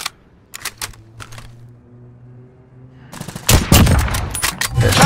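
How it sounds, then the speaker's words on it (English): Gunfire in the Call of Duty Warzone video game: a few sharp isolated shots, then a loud sustained burst of rapid automatic fire near the end. "Alright, keep shooting him, keep shooting him, keep shooting him."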